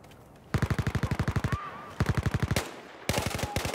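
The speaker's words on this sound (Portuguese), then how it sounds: "Atirando!" Automatic gunfire in a Battlefield video game: three loud, close bursts of rapid machine-gun shots in a steady rhythm, separated by short pauses.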